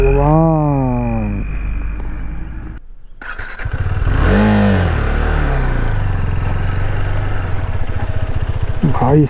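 A motorcycle on a dusty mountain road between Burtibang and Botechaur in Nepal revs its engine, rising and falling in pitch several times, loud and close, with a brief quiet gap midway.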